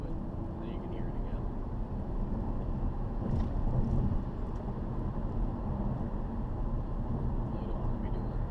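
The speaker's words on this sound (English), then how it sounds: "road noise, not a whole lot from resonators or from the exhaust" Steady low road rumble and faint exhaust drone fill the cabin of a 2012 Ford Fusion Sport with its resonators deleted, a continuous hum swelling slightly midway while cruising.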